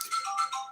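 A telephone rings in short electronic tone bursts through a brief moment, fairly clear and without talk over it, during an interview setting.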